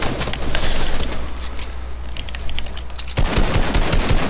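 Rapid automatic gunfire from the video game Fortnite rattles in dense, continuous bursts, loud and close, with a brief lull before a fresh volley.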